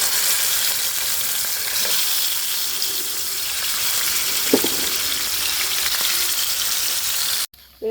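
Chicken frying in hot oil in a home kitchen, a loud continuous sizzle and crackle close by with a brief stirring clatter, cutting off sharply near the end.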